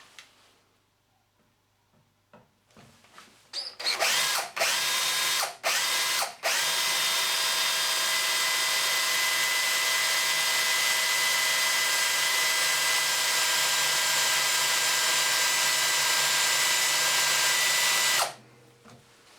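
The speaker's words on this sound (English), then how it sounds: "I'm just going to use a starter drill to start this hole." A starter drill bores into a broken bolt: a few short bursts of the motor, then a long, loud steady whir lasting about fifteen seconds before it cuts off.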